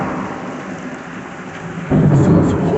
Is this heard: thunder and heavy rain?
yes